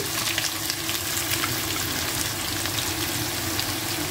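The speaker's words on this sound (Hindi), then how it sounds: "अच्छे से भून लेंगे प्याज को" Two finely chopped onions frying in hot oil with cumin seeds for a paneer masala give a steady, close, continuous sizzle with no talking.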